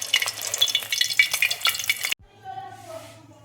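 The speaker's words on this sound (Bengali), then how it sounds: "এটা দেখো আমি মিডিয়াম ফ্লেমে ভাজবো, তাহলে ভাজাটা খুব ভালো হবে।" Paneer frying in a pan over a medium flame for paneer pasinda, a steady crackling sizzle that cuts off abruptly partway, leaving a quieter hiss with faint clinks.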